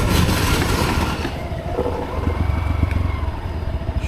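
A Yamaha WR 155R motorcycle rides along a concrete road, its engine a loud, close, throbbing low rumble mixed with wind noise, the pulsing beat steadying toward the end, with no voices.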